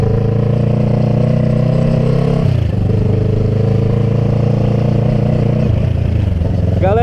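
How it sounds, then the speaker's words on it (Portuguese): Kawasaki ER6N motorcycle exhaust idling and revving close by, a steady loud parallel-twin drone with a brief dip in revs midway and a quick blip near the end; no talk. "o som do escapamento pelo vídeo não é a mesma coisa"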